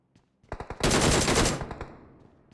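A rapid burst of automatic gunfire, several sharp shots followed by a dense volley that fades out, with no talking.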